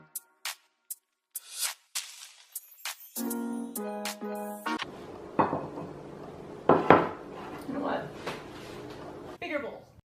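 A small measuring cup scoops a cup of baking soda into a bowl for homemade bath bombs, giving a run of light clinks and scraping rustles close by, mixed with quiet talk.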